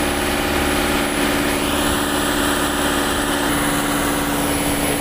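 A patrol boat's engine drones steadily and evenly up close while cruising toward the entrance of Kali Mati harbour at Tanjung Priok, a constant hum with no breaks or voices.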